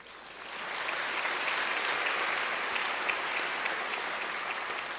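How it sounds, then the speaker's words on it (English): Applause at an oath-taking ceremony for new bar passers: a large audience claps steadily and densely, swelling within the first second and holding at an even level. "You deserve your own special round of applause from everyone here"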